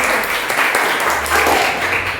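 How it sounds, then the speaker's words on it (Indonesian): A school class applauds itself at the end of a lesson on cultural diversity, a steady burst of many hands clapping close by, dense and continuous for about two seconds. "berikan tepuk tangan untuk diri"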